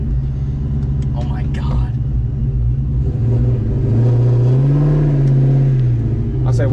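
A New Edge Ford Mustang engine turns over and revs, a steady low rumble swelling into a louder rising rev near the middle, with a man exclaiming over it.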